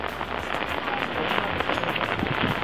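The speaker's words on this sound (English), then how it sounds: "Raining like crazy" Heavy rain pours down steadily in Kyoto, Japan, a dense continuous hiss with no pauses.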